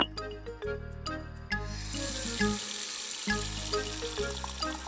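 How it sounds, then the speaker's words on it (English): Cold tap water runs into a bowl in a kitchen in an animated children's show, a streaming gush that starts and stops, with light tinkling music tones over it. "She filled a bowl with cold water."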